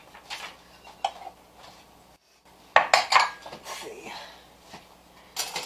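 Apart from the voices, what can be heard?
grabbing bowls, dishes clattering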